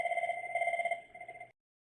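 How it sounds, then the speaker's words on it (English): A phone rings through a Cisco CUCM Mobile Connect call: a steady electronic ring tone with two sustained pitched tones pulsing rapidly, fairly close and clear, cutting off abruptly after about a second and a half, followed by silence. "Okay, so it's ringing one of his phones."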